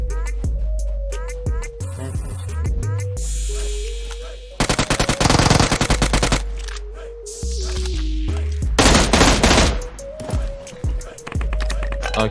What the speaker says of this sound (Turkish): O adam sıkıyor gördüm seni.